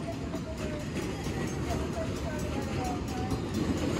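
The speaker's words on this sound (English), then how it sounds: "Yay! Train! Yay! There's like nobody on the train, but who cares?" A theme park train rolls past with a low continuous rumble and faint high wheel squeals, while a person talks over it.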